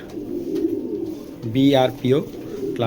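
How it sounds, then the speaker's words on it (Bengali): Pigeons coo nearby in soft, rolling bursts, with a low murmur of background sound underneath. "এই নয়টা হলো পাইথন কবুতর"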